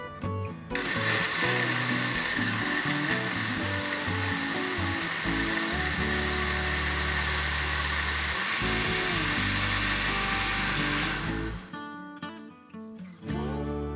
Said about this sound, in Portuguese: Agora nós vamos bater por 1 a 2 minutinhos.